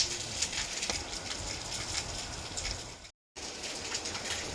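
Steady rain patters down continuously, a dense hiss of drops on a surface, with a brief dropout of silence partway through.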